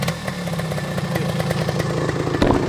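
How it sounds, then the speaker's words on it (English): A 1975 Yamaha DT400 two-stroke enduro motorcycle idles close by, its engine popping in a rapid, uneven rhythm with a buzzy rattle and a slight rev near the end, no talking. "1975 Yamaha DT400, early Japanese manufactured two-stroke enduro bike."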